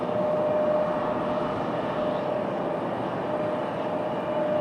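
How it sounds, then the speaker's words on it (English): A Southwest Airlines airliner landing on runway 23 right at Raleigh-Durham International Airport, a steady distant jet engine roar with a sustained whine, unbroken and fairly faint throughout. "Looks like we're going to have that Southwest land over here on 23 right"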